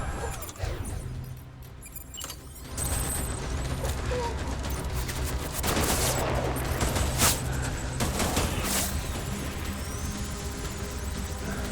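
Gunfire in Death Stranding, a dense run of shots that holds steady for most of the stretch, loud and close over a low rumbling game backdrop, with faint voices mixed in.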